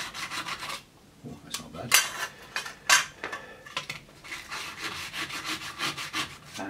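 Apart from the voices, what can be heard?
deburring a metal part by rubbing it on sandpaper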